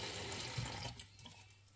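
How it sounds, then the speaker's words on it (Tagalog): Water is poured into a pot of blue crab and coconut milk, a brief splashing gush that tapers off within a second or two. It sounds close but soft, with no voices. "Lagyan po natin ng tubig"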